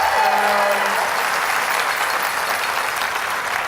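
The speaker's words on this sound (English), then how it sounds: "If you could give them a round of applause when I call their name." A school convocation audience applauds a board member, a full, steady wash of clapping from a large crowd that stays loud for the whole stretch, with a brief voice at the start.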